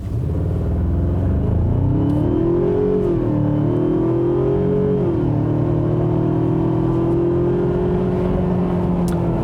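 A 2019 Ford Ranger XLT with a 2.3-liter EcoBoost four-cylinder twin-scroll turbo, in two-wheel drive and sport mode, accelerates hard from inside the cabin, its loud engine drone rising in pitch, dipping at a shift, then holding a steady climb.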